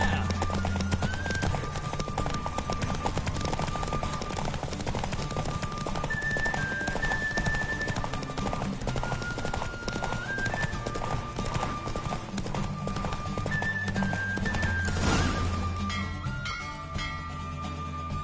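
Rhythmic hoofbeats of a galloping horse in The Witcher 3 video game over a musical score with sustained tones, steady throughout and ending in a swelling burst.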